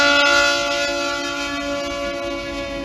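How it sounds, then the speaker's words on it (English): A Norfolk Southern freight train crosses the Harborville Trestle outside Bampton, New York, its horn sounding a loud, sustained chord-like blast that holds steady from start to finish over low rumbling. "The next day, we would find ourselves alongside the Harborville Trestle, just outside of Bampton, New York, with Norfolk Southern 11R crossing it."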